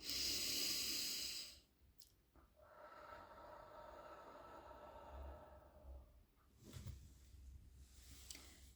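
A long, forceful breath is blown out close to the microphone for about a second and a half to calm down, then quiet room tone with a few soft rustles follows.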